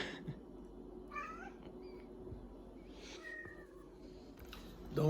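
A cat meows several times indoors, with short, separated calls over a low household hum and a louder final meow.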